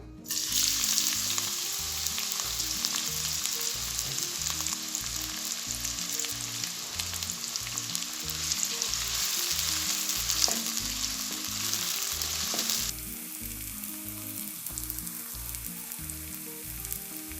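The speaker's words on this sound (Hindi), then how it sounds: "यहाँ पर मैं 4 से 5 खाने के चम्मच कुकिंग ऑयल ऐड करूँगी। अब मैं प्याज ऐड करती हूँ।" Steady, loud sizzling of onions frying in hot cooking oil for Kabuli pulao, with occasional stirring sounds; the hiss drops noticeably toward the end.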